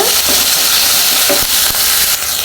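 Onion, tomato and curry leaves fry in a pan for a brinjal gravy, with a loud continuous sizzle and a few stirring scrapes close by.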